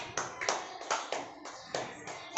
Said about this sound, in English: So clap for B group.